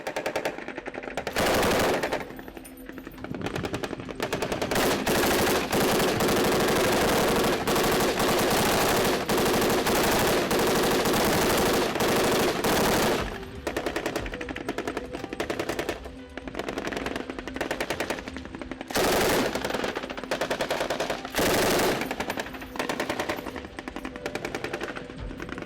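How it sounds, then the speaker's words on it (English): Sustained machine gun fire during a long firefight in Somalia, with dense rapid bursts broken by brief pauses and overlapping shots that run continuously and loud throughout, with no talk. "That is approximately three hours of non-stop firefight."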